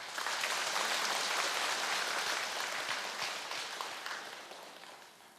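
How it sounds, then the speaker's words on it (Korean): Congregation applause for a combined choir at a Buddha's Birthday dharma service in a temple hall: sustained, fairly distant clapping that gradually fades toward the end. "연합협창단의 큰 박수 부탁드리겠습니다."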